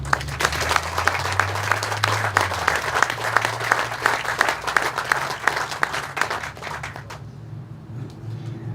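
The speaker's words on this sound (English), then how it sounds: "Please join me in giving these workers a round of applause." A crowd at an outdoor press conference applauds workers with dense, sustained clapping and a low rumble beneath it, then the clapping fades out near the end.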